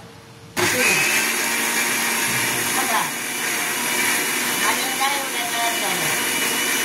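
An electric kitchen mixer grinds soaked chana, moong and toor dal with rice and water into batter for appe, a loud steady whirring drone that starts abruptly and runs close, with faint voices underneath.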